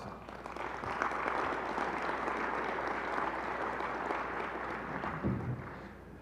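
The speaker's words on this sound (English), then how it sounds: "Give yourselves a round of applause." An audience at a mayor's State of the Government address claps steadily for several seconds, a dense, even wash of applause at moderate volume with a faint voice briefly in the background.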